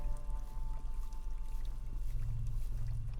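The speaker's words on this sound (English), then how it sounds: "Oh, this is water." Water in the horror video game Fear and Hunger: Termina, a steady pouring, trickling flow with a low hum beneath, continuous and close, with no voices.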